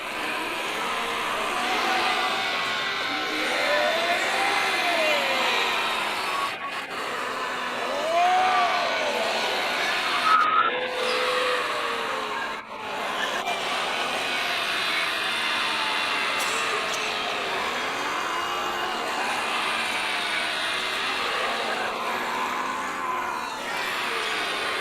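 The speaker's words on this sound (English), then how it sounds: "there's an exercise group in Cubbon Park that kind of congregate every morning, and they just make the craziest sounds" A morning exercise group in Cubbon Park makes strange rising and falling whooping vocal sounds, repeated across a continuous outdoor background wash, at moderate distance.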